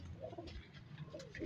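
A golden cross high-flying pigeon gives a quiet, low, throaty coo at close range over a brief, faint moment.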